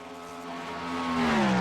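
Race cars lapping Road America in an IMSA sim racing game, engines whining steadily and rising in pitch as they accelerate, the tone sliding slightly downward near the end with no talk.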